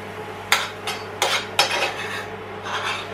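Noodles and vegetables tipped into ramen bowls for pork belly ramen, giving a few clattering scrapes and clinks of food and utensils against the bowls, spaced across the moment, close and moderately loud with no talk.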